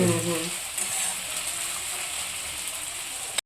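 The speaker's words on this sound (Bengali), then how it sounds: "পেঁয়াজটা লাল গেল, এই যে লাল লাল করে ভাজা হয়ে গেল।" Onions frying in a pan until reddish make a steady, dense hiss and sizzle that carries on without a break, with a faint rattly, clicking edge near the start and no one speaking.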